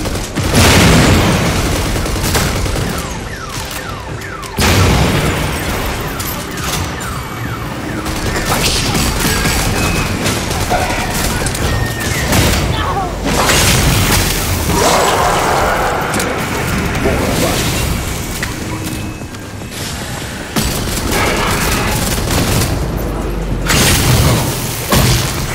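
Gunfire from a gun in the video game Redfall, loud booming shots and bursts repeating throughout over rumbling game sound, with a voice talking at times over the action.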